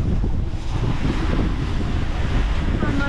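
Strong wind buffets the microphone aboard a sailing boat on rough sea, with a steady roar and the wash of waves against the hull running continuously and loudly throughout.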